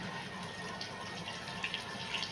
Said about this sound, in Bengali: এই যে আমি ধুয়ে নিচ্ছি।